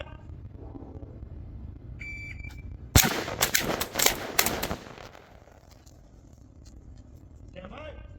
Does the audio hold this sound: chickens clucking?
no